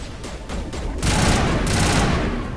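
Rapid sniper and weapon fire in the Mass Effect Legendary Edition video game: a dense, loud volley of gunshots building into a sustained barrage with no pauses.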